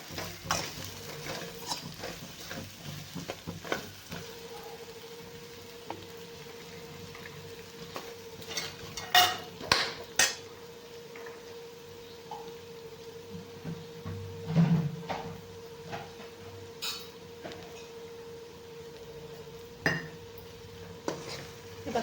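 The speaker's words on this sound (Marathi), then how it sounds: "आपण ह्याला असेच फ्राय करून घेणार आहे हलवून हलवून" A utensil stirs stuffed green-chili eggplant frying in a pan, giving scattered scrapes and clinks over a faint, steady hum, close and fairly quiet throughout.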